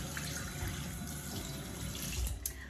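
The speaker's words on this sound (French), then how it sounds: "Donc, je vais rincer." Tap water runs steadily into a sink during a face rinse after makeup removal, a continuous close splashing hiss filling the whole stretch with no voices.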